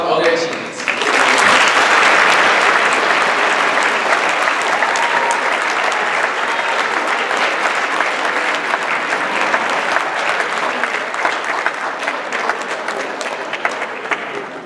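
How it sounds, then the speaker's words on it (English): At a 2018 National Honor Society induction, a crowd breaks into loud, sustained applause after a second of quiet, holding a thick wash of clapping for over a dozen seconds before easing slightly at the end. "please join me in another round of applause for all their achievements"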